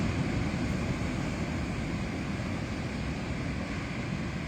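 Ocean waves rolling in steadily at sunrise, a continuous broadband wash with a strong low rumble and no distinct breaks, close and fairly loud, with no voices.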